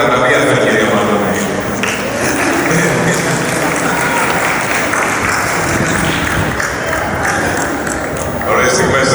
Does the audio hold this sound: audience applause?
yes